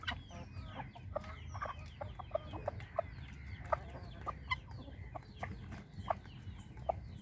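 A hen clucks repeatedly among guinea fowl on a farm, short close clucks in an uneven rhythm over a low background rumble.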